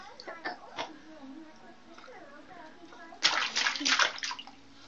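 A small child splashing and sloshing in a bathtub, with soft water movement at first and then a louder burst of splashing near the end, under an adult's voice speaking close by.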